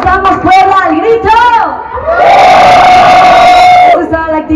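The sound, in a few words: crowd shouting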